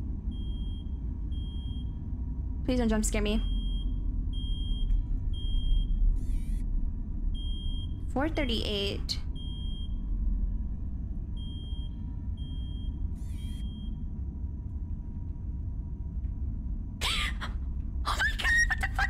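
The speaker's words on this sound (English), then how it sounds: "An alarm." Alarm beeps in a horror video game, several short tonal bursts with pauses between them over a steady low rumble, one voice speaking briefly.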